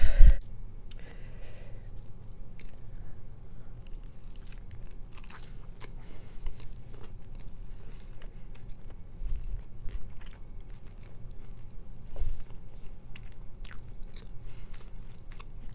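Close-up chewing and crunching of leftover Mexican pork roast on potatoes during a mukbang, soft wet bites and mastication continuing steadily with small clicks throughout, no talking.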